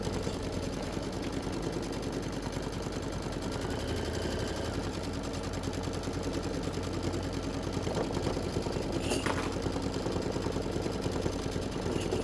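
A quilting embroidery machine stitches a tack down line, a fast steady mechanical rattle running continuously and close, unchanging in pace throughout.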